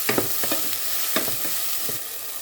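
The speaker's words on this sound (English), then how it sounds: "In a heated saucepan, put some drops of olive oil, and start to sauté the garlic and onion." Garlic and onion sautéing in olive oil in a heated saucepan, a steady sizzle broken by clinks and scrapes of stirring, close up and without voices.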